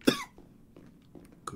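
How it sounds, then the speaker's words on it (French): A single sharp, close cough bursts out, followed by a few fainter throat sounds and a second softer cough at the end. "c'est quoi cette toux là?"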